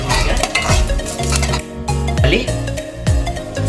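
Garlic stirred in hot oil for a peanut chutney tempering, with a soft sizzle and scattered spatula scrapes and clinks against the pan running under continuous talking.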